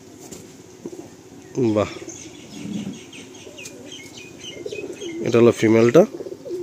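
Big-size Kala Sabuj pigeons in a loft in Kolkata give loud, close, rolling coos in two bursts, with softer cooing between them and people talking nearby.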